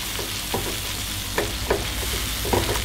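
A tofu seasoning mixture with broth powder and ground pepper fries in a pan, giving a continuous close sizzle broken by a few sharp scraping stirs.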